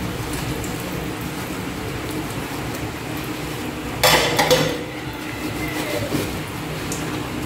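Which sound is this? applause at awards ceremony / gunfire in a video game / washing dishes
washing dishes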